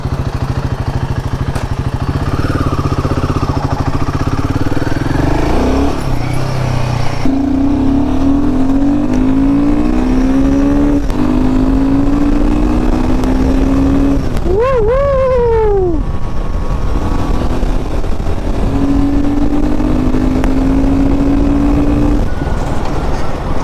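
An Aprilia RS457 sport motorcycle revs on an Independence Day ride, its engine pitch climbing and falling in repeated pulls with a sharp high rev burst midway, close and loud throughout.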